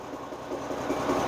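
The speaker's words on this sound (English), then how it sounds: "right there, the tractor is moving a little bit" International Harvester tractor engine running as the machine begins to creep forward, a low steady rumble with faint mechanical rattling, fairly quiet and consistent throughout.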